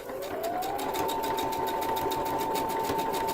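A sewing machine stitches fabric in a fast, even, close-up rhythmic chatter, with the motor whirring up to speed at the start and then running steadily.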